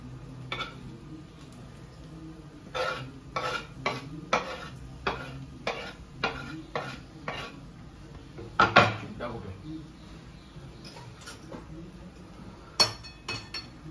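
Poha gets stirred in a kadhai held steady with tongs, and a spoon scrapes and clinks against the metal pan in a run of sharp, irregular strokes. A low kitchen hum sits underneath throughout.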